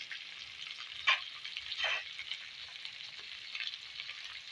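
Onions added to hot oil in a chicken karahi, a soft steady sizzle with a couple of brief sharp crackles and spatula scrapes, fairly quiet and without talk.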